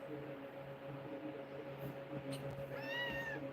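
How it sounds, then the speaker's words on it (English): A cat gives a short, rising meow indoors, close but fairly quiet, heard over a steady low hum. "Here's the crazy cat."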